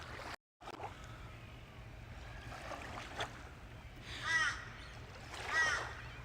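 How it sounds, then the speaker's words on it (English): Two hoarse crow caws ring out at a bay at sunrise, moderately distant over soft waterside ambience, spaced about a second apart. "That's a crow that we're hearing."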